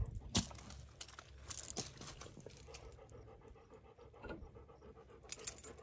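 A dog pants quickly and rhythmically close by, with occasional crinkling and rustling sounds mixed in.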